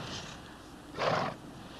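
A horse neighs in a Western film, one loud whinny burst in the middle of the moment over a steady background hiss, close and clear with no talking.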